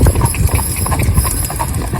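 Draught horses, wedding cobs out on town training, clip-clop along a road in a close, steady stream of hoofbeats, loud and near with light background noise.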